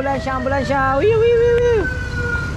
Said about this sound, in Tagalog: Yun, ambulansya oh. May ambulance yan.